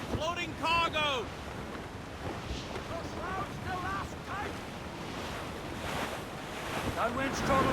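Wind and ocean waves wash steadily around a sailing ship at sea in Assassin's Creed Rogue, a broad rushing surf bed that swells louder toward the end while sung and spoken voices come and go over it.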